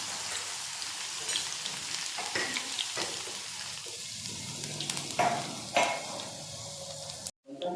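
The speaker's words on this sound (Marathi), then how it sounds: "घरगुती कांदा खोबऱ्याचा मसाला, ते पण तेलामध्ये छान होऊ देते" A homemade onion-coconut masala frying in oil for malai kofta crackles and sizzles steadily, with scattered stirring clicks and a brief dropout near the end, no one speaking.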